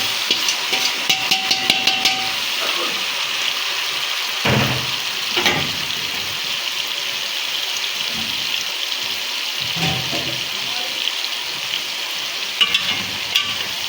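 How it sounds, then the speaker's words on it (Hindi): Steady loud sizzling of boiled pumpkin leaves frying in a pan with tomato and garlic fills the whole stretch, with occasional scraping and stirring clatter and no voices. "पहले हम इसमें ये साग ऐड कर देंगे, इसको अच्छी तरह भूनेंगे।"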